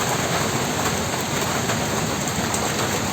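Steady rain pours down in a village on a dark rainy day, a dense, even hiss filling the whole moment with no pauses or voices.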